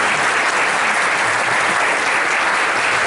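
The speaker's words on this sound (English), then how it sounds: "a round of applause for the experience that's in this room." Steady, dense applause from a large crowd, loud and sustained throughout with no break.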